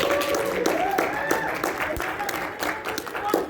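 An audience at an Anthro New England 2024 convention panel claps and cheers, with scattered clapping under excited shouting and talk over the whole short stretch.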